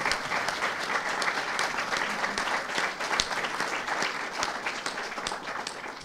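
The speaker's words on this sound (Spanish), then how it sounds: "Por un lado tenemos al compañero Esteban Volko, para el cual pido un aplauso" Steady applause from a sizable crowd, dense and sustained throughout, with no speech over it.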